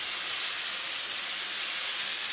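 A 2850 ml steam cleaner set to its fifth and highest steam level releases a loud, steady hiss that stays even and unbroken throughout, with no talking.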